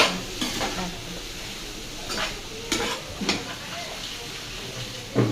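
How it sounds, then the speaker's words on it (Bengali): Chicken sizzling in a pan as turmeric, salt and green chilies are mixed in, with a steady frying hiss and several sharp scraping stir strokes at irregular moments, close by. "এবার এগুলো মিশিয়ে নেবে"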